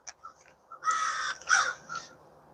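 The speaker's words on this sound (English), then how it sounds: "The crows are always loud around here." Crows cawing outdoors, a few loud harsh caws in a short sequence, close and clear against a quiet background.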